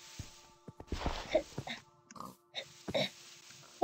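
Pig oinks and grunts from the video game Minecraft come in short bursts over a quiet game background with faint music, several squeals spread across a few seconds.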